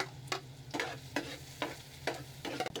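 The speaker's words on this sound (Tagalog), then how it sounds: "Igisa lang natin. Tapos mga ating sunod ko na rin dito yung bawang." Garlic and onion sautéing in a pan with ginger, heard as a faint sizzle broken by regular spatula strokes, roughly five scraping stirs in under three seconds, with no talk.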